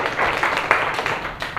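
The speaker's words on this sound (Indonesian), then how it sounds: "Tepuk tangan untuk kelompok 5." A classroom of students applauding a group, a moderate, continuous patter of many hands clapping with a few sharper claps standing out, heard in a room.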